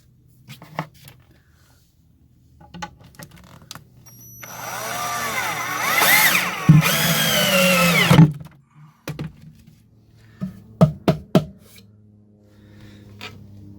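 A power drill drives screws through pilot holes into cabinetry, two whining bursts of a few seconds each that rise and bog down under load, close and loud, framed by scattered knocks and handling clatter.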